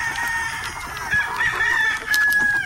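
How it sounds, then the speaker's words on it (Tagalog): Chickens on a farm cluck and crow close by, a rooster's drawn-out calls rising over continuous hen chatter, with no talking. "Ayan yung mga manok mo"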